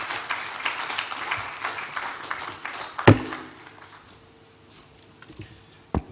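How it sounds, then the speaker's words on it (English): Applause at the 15th Abuja International Housing Show in Nigeria: a busy spread of clapping that fades after a sharp thump midway, leaving quieter room noise and a few scattered claps. "I think you deserve another round of applause"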